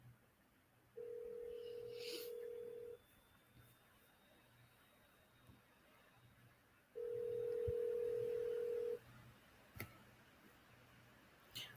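A telephone line opens with two steady dial-tone beeps, each about two seconds long and separated by a quiet gap, over faint background hiss and a few clicks.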